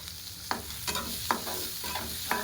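Turmeric, coriander powder, cumin powder and salt being stirred and fried in a pan for kadai paneer, a soft steady sizzle with about five light scraping stirs at a regular pace.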